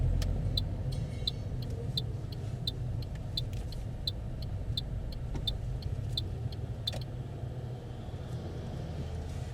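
A car in a mock driving test pulls over behind a parked blue car, its engine rumbling steadily close by with faint road noise and light clicking ticks, and no talk.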